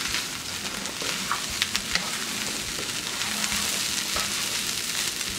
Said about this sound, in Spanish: ahora vamos a sofreír bien el arroz